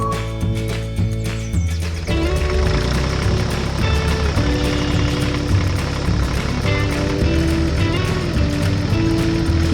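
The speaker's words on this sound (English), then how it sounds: "a little red tractor drove out of the garage" A small red tractor's engine drives out of a farm garage, a loud steady chugging that runs under a busy, layered musical backing.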